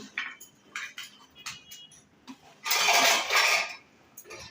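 Fried rui fish pieces dropped into boiling gravy in a pan, giving a few separate clinks and a loud sizzling burst in the middle, with softer clatter before and after.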